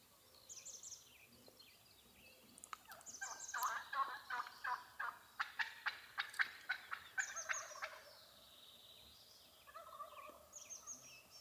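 Wild gobblers on public land sound off in a string of loud, rapid gobbles, several close bursts in a row with fainter distant gobbles before and after, outdoors with no talk.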